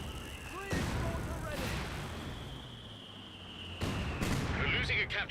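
Mortar barrage in Company of Heroes 2, a World War II strategy game: several heavy booming impacts at the start and again near the end, over a dense battlefield rumble, with commentators talking throughout.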